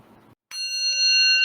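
A single bright bell is struck once after a brief murmur and rings out clearly, its pure sustained tone lingering and growing slightly as it resonates.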